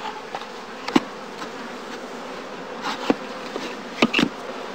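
Honeybees hum steadily around small skep beekeeping boxes at a heathland basket apiary during the afterswarm season, a dense continuous buzz with a few louder close passes of individual bees.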